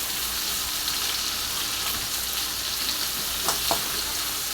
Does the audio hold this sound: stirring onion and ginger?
yes